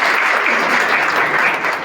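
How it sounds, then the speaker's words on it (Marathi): Loud, steady applause fills the hall from the audience at a Vanchit Bahujan Aghadi party event in Malegaon, a dense continuous roar of many hands clapping without pause. "जोरदार टाळ्या वाजवून स्वागत करूया."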